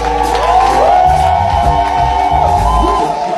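A concert audience cheers and whoops loudly in a steady, dense roar for the performers, with rising shouts cutting through.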